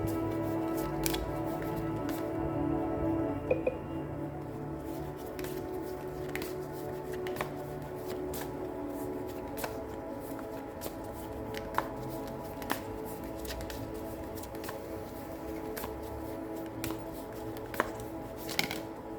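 Tarot cards are shuffled and pulled for a pick-a-card reading, with soft, continuous riffling and sliding marked by scattered crisp card snaps over a quiet room hum and no talking.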